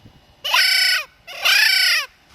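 Two long, loud honking blasts blown on an Altahmut duck call, each about half a second, with a brief gap between them, close and harsh with no talk over them.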